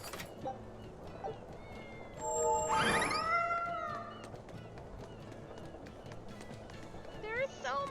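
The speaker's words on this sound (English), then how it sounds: "There are so many kitties here!" In the video game Tales of Berseria, several cats meow in rising, drawn-out cries over game ambience, with one loud meow in the middle and fainter mews later, alongside voices.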